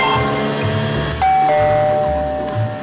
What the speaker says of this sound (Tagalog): Malakas na tumunog ang doorbell sa harap ng bahay.